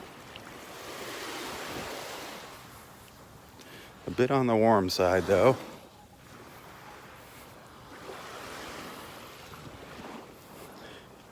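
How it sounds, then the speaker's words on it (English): Soft ocean waves wash continuously on a beach in North Naples, Florida, with wind noise on the microphone, while someone speaks briefly in the middle. "now that the waves are letting up, the water's starting to clear up"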